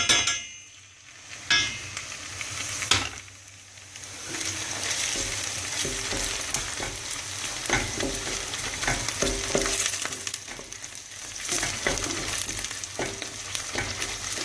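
Tomato paste fries in a hot pan with a continuous sizzle, broken by occasional clanks and scrapes of a spoon stirring against the metal and no voices.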